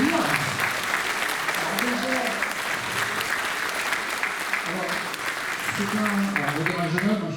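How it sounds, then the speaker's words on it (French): A crowd applauds steadily at a gathering in Villebois-Lavalette, the dense clapping running throughout while voices murmur and talk underneath. "On peut l'applaudir."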